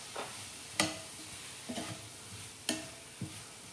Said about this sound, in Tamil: இப்போ பாருங்கள், காய்கறிகள் எல்லாம் கொஞ்சம் நல்லா வதங்கிருச்சு.